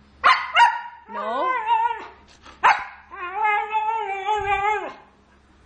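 A dog lets out sharp, close barks that slide into long, wavering whining howls, in two rounds. A voice speaks briefly between them.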